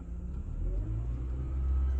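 A Honda Accord engine idles with a low rumble, then the revs climb steadily under a light throttle, growing slightly louder toward the end.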